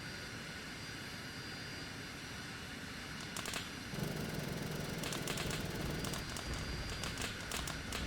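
Fighter jet in Arma 3 roaring overhead, a steady broadband engine rush that swells louder around the midpoint and holds as the aircraft passes, with no talk.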